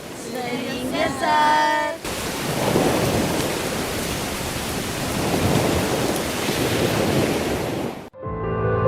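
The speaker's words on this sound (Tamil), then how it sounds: "இந்த மழையிலையும் காற்றுலையும் எப்படி போவீங்க பெருசாக இருக்குது மழை" Heavy rain and wind roar in a steady, loud wash during a stage drama, with a rumbling low undertone; a voice is briefly heard before the storm sound begins, and it cuts off sharply at the end.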